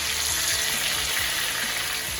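A ribeye steak sizzles loudly in a pan while basted with garlic, thyme and rosemary butter, a dense, continuous crackling fry heard up close with no talking.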